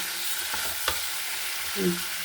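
Chicken seasoned with lime juice being stirred in a hot pan, a continuous close sizzle with a couple of scraping strokes and a brief clink, no voices.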